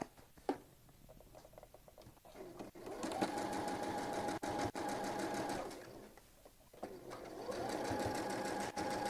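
A sewing machine stitches a quilted strip-pieced notebook cover in steady whirring runs, stopping and restarting several times, loud and close with no talk.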